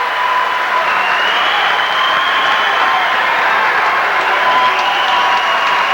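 Basketball crowd erupting in applause and cheers after a foul on a Huskies player's drive, a dense, sustained roar filling the whole moment.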